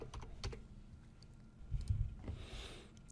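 Code being typed on a computer keyboard in Unity, a few soft, faint key clicks in short clusters against low room noise.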